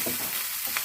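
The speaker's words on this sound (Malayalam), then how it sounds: "രണ്ട് കതിർത്ത് വേപ്പില ഇതൊക്കെ വഴറ്റാം" Curry leaves and ginger sauté in hot oil in a pan for ginger curry, giving a brief, steady hissing sizzle up close.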